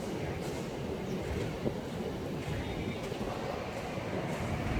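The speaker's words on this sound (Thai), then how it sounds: "ชมวิวรถไฟฟ้าวิ่งผ่านครับ" An elevated BTS Skytrain passing along Sukhumvit near the Emporium car park in Bangkok, a steady low rumble with faint rail clatter heard from some distance, a soft voice briefly under it.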